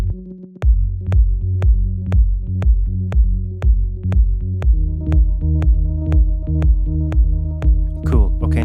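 A deep transposed bass line plays steady repeated notes with a regular ticking beat, washed in chorus, grain delay and reverb, shifting pitch partway through before a brief fluttery tail.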